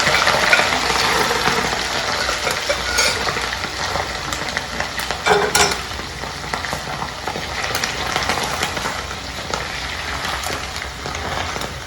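Mutton pieces frying in hot oil, boiled dry beforehand, give a dense continuous sizzle and crackle with a brief louder spatter midway, close and steady throughout, with no voices.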